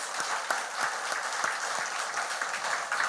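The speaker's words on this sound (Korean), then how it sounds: "우리 하나님께 영광의 박수, 감사의 박수 한 번 더 보냅시다." A church congregation claps in worship, a dense, even burst of applause with a few sharper individual claps standing out, steady through a few seconds.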